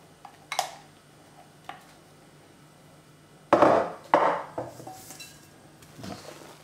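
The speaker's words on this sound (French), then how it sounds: "on a commencé à mélanger la chantilly et les blancs en neige" A utensil knocks and scrapes against a bowl while whipped cream is gently folded into beaten egg whites for a raspberry mousse; a few sharp clinks are spread out, with two louder scraping strokes in the middle and no talking.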